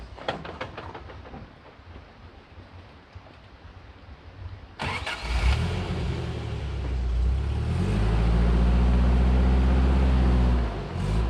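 An off-road vehicle crawls over rocks, its engine starting with a brief rattle and then rising into a loud, close, steady rev and roar that holds through the rest, with no voices.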